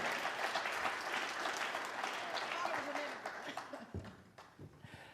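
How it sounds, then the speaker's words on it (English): An audience at a real estate investment keynote event breaks into sustained applause, dense and loud at first, then thinning and tapering off toward the end, with a few scattered claps. "Can we give her another round of applause?"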